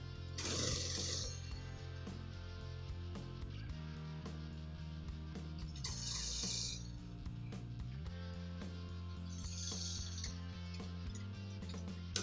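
A sewing machine stitches a trouser in short bursts, its motor humming and needle rattling in roughly three runs separated by brief pauses, with a tonal background underneath.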